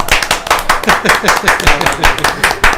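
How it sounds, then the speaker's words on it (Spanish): Rhythmic, loud close clapping in a quick regular beat, with a few voices shouting over it. "¡Aplausos!"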